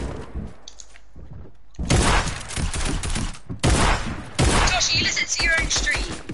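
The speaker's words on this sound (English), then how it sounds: "I don't even know who I'm shooting at this point." Rapid bursts of gunfire from a Fortnite match crack loudly and repeatedly, clustered into dense volleys with short pauses between them, alongside faint game noises.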